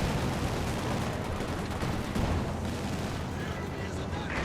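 A half-track opens fire in the World War II strategy game Company of Heroes 2, a dense, continuous roar of gunfire and explosive blasts with a commentator talking over it.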